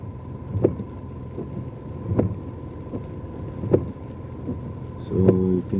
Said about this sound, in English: Traffic jam, heavy downpour.